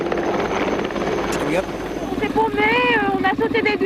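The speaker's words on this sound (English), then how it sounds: "Medical service intervened using the helicopter, which proved its usefulness in the desert" A medical helicopter flies over the desert, its rotor a continuous engine drone carried under someone narrating, with a brief whistling tone near the end.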